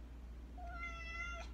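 A kitten gives a single rising, drawn-out meow, close and clear, over a steady low background hum.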